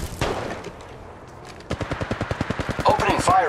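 Automatic gunfire in Apex Legends Mobile, played on an iPhone 11, starts after a single early shot and runs as a rapid string of close, loud shots. Game voice lines and effects sound around it.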